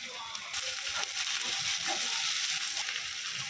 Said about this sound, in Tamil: பாருங்க, வெங்காயம் வதங்கிக்குது